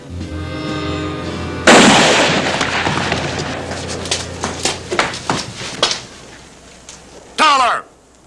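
Gunfire in a Western frontier scene: one sharp, loud shot breaks in, then a scatter of smaller cracks and thumps spread irregularly, and a final ringing blast near the end.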